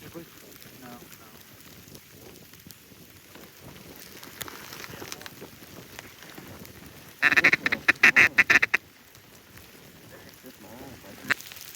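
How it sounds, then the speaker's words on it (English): Ducks on the water near Arkansas break into a burst of loud, rapid quacking about two-thirds of the way through, over wind and outdoor rumble during a winter blizzard hunt, with faint whispered talk before. "those are all ducks sitting over there"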